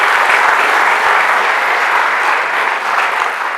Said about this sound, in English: a round of applause for Melvin